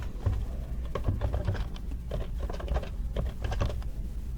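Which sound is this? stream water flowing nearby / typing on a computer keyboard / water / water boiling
typing on a computer keyboard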